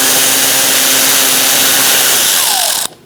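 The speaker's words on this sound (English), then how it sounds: "And now we're going to take out this bolt." A power tool whirs steadily and loudly with a 7mm socket, removing a bolt from the front fender splash shield of a 2006-2011 Chevrolet HHR, then cuts off abruptly near the end.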